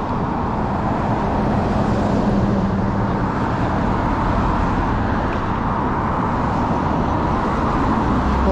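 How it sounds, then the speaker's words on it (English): Dense street traffic with many cars passing e-bike riders, a steady, loud roadway rumble that continues without break throughout. "Lots of cars out today."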